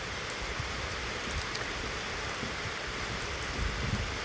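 Steady rain pouring down outdoors on a rural farm, a dense even hiss with occasional heavier drops and a low rumble beneath, no voices.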